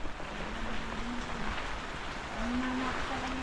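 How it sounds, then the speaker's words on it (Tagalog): Heavy typhoon rain falls steadily as a dense, even hiss, moderately loud and continuous, with a faint low tonal hum drifting in and out beneath it. "Palakas ng ulan."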